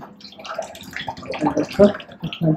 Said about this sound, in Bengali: এই হচ্ছে হোলির জল বেরোচ্ছে আমাদের, হোলির কাপড় ধুয়ে এত রং হয়ে গেছে।